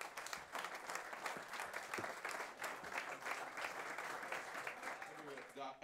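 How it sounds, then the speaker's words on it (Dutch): A school audience gives Thalita de Jong loud, sustained applause as she enters the Wall of Fame at the Johan Cruyff College, with voices and crowd noise mingled in throughout. "een davend applaus"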